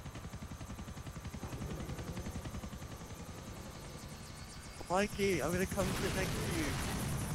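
A helicopter's steady rotor chop thrums throughout over GTA IV game sounds, with a person talking partway and a burst of louder effects near the end.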